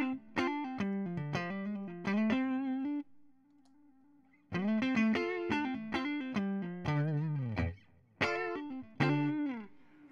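Distorted electric guitar phrases through a Strymon Timeline delay pedal set to a tape-style Echoplex sound ring out with repeating echoes trailing each note, separated by a short, nearly silent pause.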